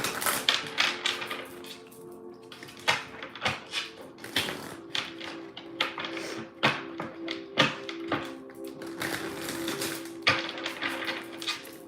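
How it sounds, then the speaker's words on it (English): Crisp, rapid snapping and tapping of cards being shuffled, close up, in uneven bursts over a steady faint background. "let me shuffle real quick."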